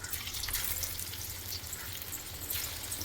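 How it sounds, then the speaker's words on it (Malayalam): Cauliflower pieces fry in hot oil, producing a faint, steady crackling sizzle with fine bubbling that continues evenly throughout the short stretch, with no voices. "ആ എണ്ണ ഒന്ന് ചൂടായി കഴിയുമ്പോൾ നമുക്ക് നേരത്തെ മിക്സ് ചെയ്ത കോളിഫ്ലവർ ഇങ്ങനെ ഓരോന്നായിട്ട് ഇട്ട് കൊടുക്കാം"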